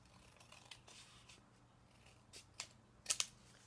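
Scissors snip through folded yellow paper, a few quiet cuts followed by two sharper, closer snips near the end against a soft room background.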